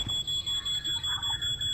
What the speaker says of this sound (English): Where's the fire alarm?